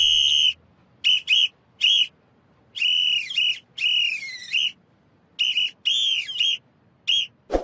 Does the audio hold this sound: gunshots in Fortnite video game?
no